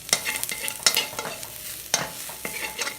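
Fresh vegetables sizzle and hiss in a hot wok with garlic and oil while a utensil scrapes and tosses them in quick, irregular bursts.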